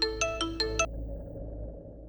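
A phone ringing at midnight, five quick bright electronic chime bursts in an even rhythm, close and clear, then it stops, leaving a low hum of room noise.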